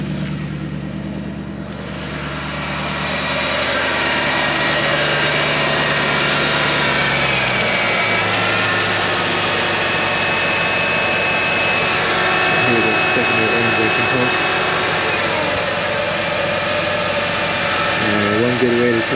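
Mercedes M156 V8 idling in the engine bay, a steady close mechanical drone with rumble and a faint whine, growing louder as the listener moves in toward the motor.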